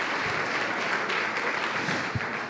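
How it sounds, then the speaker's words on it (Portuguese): A church congregation breaks into steady applause, a dense wash of clapping with a few louder single claps standing out, filling the room without any talk over it. "Pode aplaudir"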